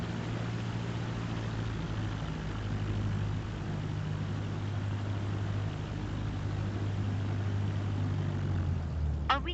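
Steady droning engine of a Cessna light aircraft in Microsoft Flight Simulator 2024, holding a constant low hum with broadband noise on the runway at takeoff clearance, close and continuous with no talk.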